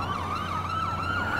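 An ambulance siren in the video game Watch Dogs 2 wails in repeating rising and falling sweeps, steady and prominent over a low engine drone, with no talking.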